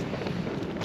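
Strong storm wind buffeting a microphone on an exposed fell at a wild camp, a steady roaring rush with a brief sharper gust or knock near the end.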